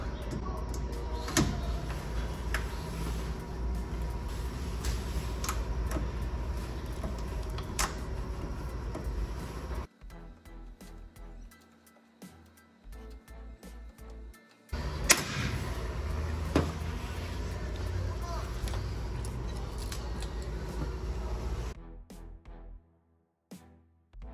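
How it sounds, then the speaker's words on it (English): A rivet gun fastens rivets into metal, giving a loud, steady mechanical whir with a few sharp snaps. The noise stops for a quieter stretch in the middle, then returns at full strength. "Then I take my rivet gun and simply start the process of fastening the rivets into the metal."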